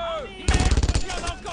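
In the WWII shooter Brothers in Arms: Road to Hill 30, a loud, rapid burst of automatic gunfire erupts after a moment of rumbling battlefield ambience, then fades back into the background din.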